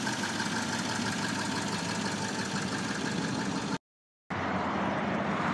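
A lifted 2018 Nissan Titan XD on Toyo all-terrain tires, with a 5-liter Cummins diesel, idles with a steady, loud, dense rumble close to the mic. The sound cuts out briefly, then resumes unchanged.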